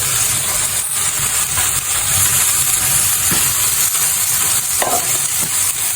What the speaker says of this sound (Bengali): এইভাবে আমি আস্তে আস্তে নেড়ে নেড়ে ভেজে ভেজে কিছুক্ষণ পর